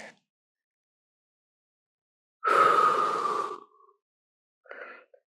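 Slow breath during a full-body flexibility stretching class: one long breath lasting about a second, loud and close, then silence, then a shorter, fainter breath.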